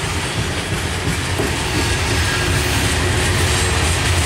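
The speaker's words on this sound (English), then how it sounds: "This train goes to a Clear Center," A freight train bound for a sand plant at Clay Center, Ohio rolls past on the rails with a steady, loud rumble and faint clickety-clack, with no voices over it.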